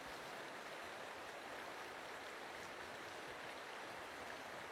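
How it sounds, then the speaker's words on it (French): Small forest streams near a watershed divide in the Quebec backcountry, heard as a steady, even rush of flowing water, faint and continuous with no other sounds. "Donc, c'est les beaux petits ruisseaux Morrison."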